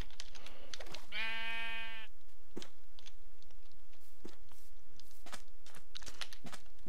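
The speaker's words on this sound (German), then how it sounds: "Schon das Schaf." Sheep bleating in the Minecraft video game: one clear, wavering bleat near the start over faint clicks and tapping, then quieter intermittent clicks alone.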